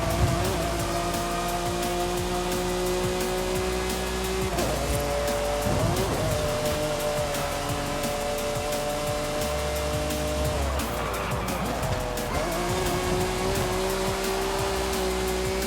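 A Super GT grand tourer racing in the Night-Runners video game, engine droning steadily with rising and falling pitch through gear changes, tire squeal and a rumbling undertone throughout.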